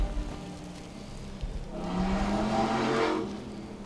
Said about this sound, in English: there was a very loud motorcycle going right by my window